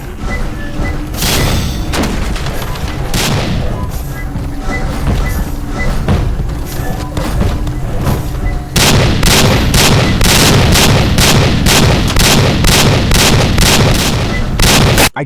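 Video game shotgun fire, with heavy booming shots over a dense battle din, first sparse and then a fast, regular run of loud blasts in the second half.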